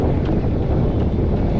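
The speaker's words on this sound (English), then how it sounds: "Windy as hell." Strong wind buffets an outdoor microphone in a steady, loud, broadband roar that holds for the whole moment with no break and no voices.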